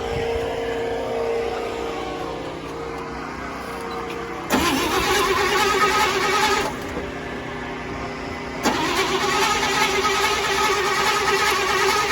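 A 1961 Chevy C10 long bed fleetside truck engine cranks and catches, settling into a steady running rumble, then a second surge of revs, loud and close throughout.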